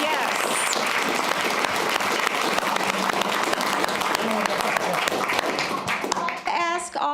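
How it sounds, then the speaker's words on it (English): Applause fills a city council meeting, a dense run of close and distant clapping from the room that thins out near the end as a voice begins to speak. "give him a round of applause"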